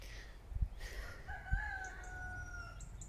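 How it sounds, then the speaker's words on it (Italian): Several roosters crow, long wavering calls overlapping at a moderate distance, with a couple of dull low thumps early on and no talk during the calls. "Sentite i galli cantare"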